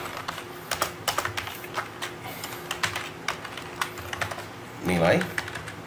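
Steady clicking of typing on a computer keyboard in a classroom-style lecture setting, fast irregular key taps throughout with a brief louder burst of keys near the end, no speech over it.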